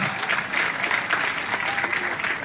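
Applause from an audience at a meeting with the President of Sierra Leone, steady close clapping for a couple of seconds with no voices over it.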